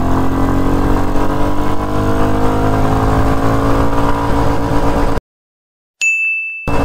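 A Royal Enfield Bullet 350 motorcycle accelerating in first gear, a loud, close engine roar that climbs steadily for about five seconds before cutting off abruptly, followed by a ringing ding.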